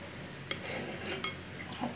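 Minced shrimp, greens, onion and garlic are stirred into a rice dough in a bowl: a few faint, soft clinks and scrapes of the utensil against the bowl in a quiet room.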